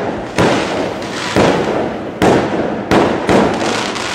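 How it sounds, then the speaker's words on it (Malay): An outdoor fireworks display bursts repeatedly, with five or so loud sharp explosions, each trailing into a crackling roar, close and continuous, with no talking. "Okey, tengok bunga api dulu."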